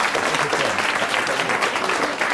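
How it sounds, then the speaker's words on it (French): Studio audience applause on a French television show, a dense steady clatter of many hands clapping at full strength throughout, loud and close, with no break. "applaudissements pour Madame Martineau"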